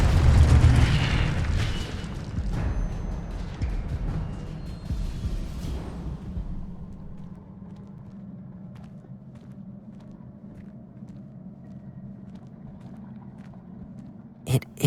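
A fire spell bursts in Hogwarts Legacy, a loud roaring whoosh that rumbles and fades over about six seconds, followed by quieter ambience and a final sharp pop.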